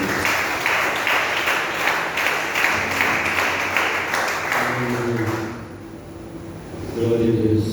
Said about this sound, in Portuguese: Você que pode aplaudir o Senhor, aplaude ele.